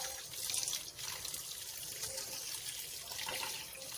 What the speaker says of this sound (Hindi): मैं इसको ठंडे पानी से वॉश कर लूँगी, जिससे इनके अंदर जितना भी स्टार्च होगा वो सब निकल जाएगा